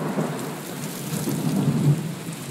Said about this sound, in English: I felt the wind, and then I went out to the porch, and then it started raining.